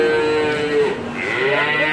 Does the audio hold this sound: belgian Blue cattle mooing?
yes